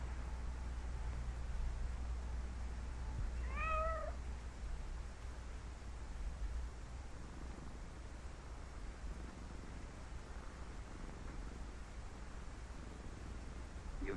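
A cat gives a single short meow in an old 1955 film soundtrack, a brief tonal cry near the start, fairly faint over a constant hiss and hum, with the rest quiet.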